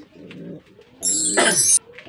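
Pet pigeons coo softly at close range, one low coo cut across by a brief, sharp, bright burst of noise.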